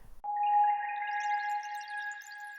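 A transition sound made with the Lunacy BEAM granular plugin: a sudden bright tonal onset that swells into a sustained shimmering drone with sparkling grainy overtones, heard alone.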